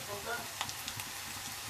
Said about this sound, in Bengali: এই রসুন দিয়েছি, এবার একটু নেড়ে দেবো রসুনটা দিয়ে